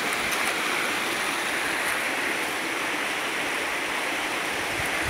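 Water rushing at a dam, a dense, constant roar of flowing water, loud and unbroken throughout.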